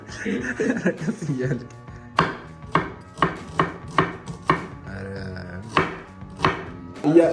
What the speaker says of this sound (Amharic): እያረደው ሽንኩርታችንን ከታትፈን ጨርሰናል።